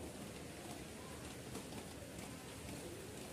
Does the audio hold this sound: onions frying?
no